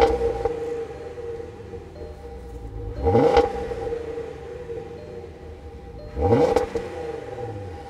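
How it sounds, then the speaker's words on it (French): A 2018 Volkswagen Passat GT's VR6 engine idles steadily, then revs up twice in quick rising sweeps about three seconds apart, each settling back to idle. "surtout au niveau du VR6 qui est magnifique, ce son-là."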